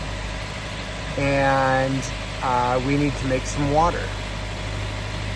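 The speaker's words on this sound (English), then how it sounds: "You can hear the engine in the background right now." A sailboat's engine runs steadily to charge the batteries, a low continuous drone with a faint hum that stays beneath a man's speech throughout.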